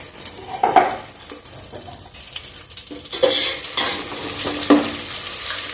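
Bay leaves and other whole spices dropped into hot oil in a pot for chicken biryani, giving a steady sizzle with a few sharp clinks and stirring scrapes, moderately close, with no talk.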